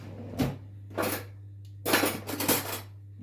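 A spoon knocks and scrapes against a bowl while homemade butter is mixed, several separate clattering strokes with short pauses between them, close and alone.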